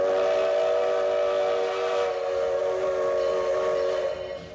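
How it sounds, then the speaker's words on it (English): A steam-driven locomotive on the Reeder Railroad in South Arkansas, heard as a loud, steady whistle-like tone holding throughout and fading slightly at the end, with no talk. "As a conductor for the Reeder Railroad, he rides the rails of this steam-driven beauty"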